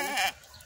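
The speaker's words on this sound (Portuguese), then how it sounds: "Tem que botar os nomes nas cabras, Demo." A goat gives one short, wavering bleat up close, a nasal quavering cry lasting about a third of a second before dropping to quiet background.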